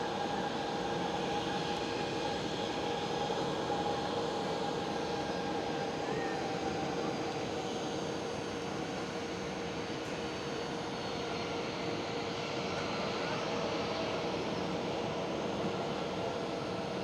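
An airliner idles and taxis at Amsterdam Schiphol, a continuous mid-level engine hum with steady tonal whine lines holding evenly throughout, alone without speech.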